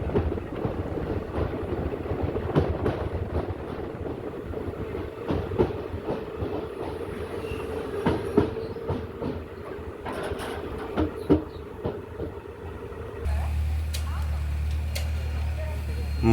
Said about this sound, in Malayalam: കായംകുളത്തിൻ്റെ പ്ലാറ്റ്ഫോം നമ്പർ 4-ലോട്ടാണ് ട്രെയിൻ വന്നത്.